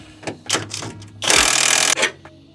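Top bolt of a shock absorber on a Ford Falcon being removed: a few short metallic taps and clicks, then a loud sustained burst of tool noise lasting under a second, close up with no talk.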